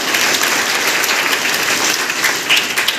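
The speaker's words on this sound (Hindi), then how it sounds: "इसके लिए ताली बजाओ भाई, उसने सवाल पूछा।" Children in an audience at a district collector's motivational programme clap together in a loud, sustained burst that stays even throughout, with no talking over it.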